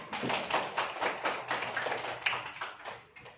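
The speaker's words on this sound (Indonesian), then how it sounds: "Ayo tepuk tangan buat kita." Hands clap in a classroom, a quick rhythmic run of sharp claps at a moderate level that tails off near the end.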